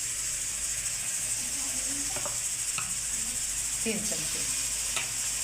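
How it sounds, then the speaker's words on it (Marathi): Ground black masala (Mathura brand) added to a pan for spicy keema fry, giving a steady low sizzle with a few stirring scrapes and soft clinks, while a voice briefly speaks. "हे वाटलेला मसाला टाकू"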